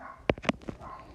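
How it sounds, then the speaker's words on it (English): A dog barks a few times in the background, three short sharp bursts spaced about a quarter second apart, moderately loud against a quiet room. "hear my dog's barking in the background"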